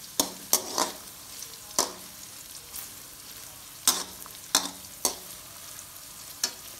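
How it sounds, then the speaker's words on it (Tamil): Onions sautéed in a pan for a spicy bread fry with fish curry make a low sizzling bed, broken by sharp, irregular scraping and clinking strokes of a spatula against the pan, close and clear with no talking. "இப்போ நல்லா அந்த வெங்காயத்தெல்லாம் நல்லா வதக்குவோம்"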